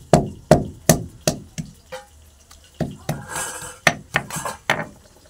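Jujube berries crushed on a stone grinding slab: about a dozen sharp, close knocks in a steady beat, then a brief scraping, rustling stretch before more irregular strikes.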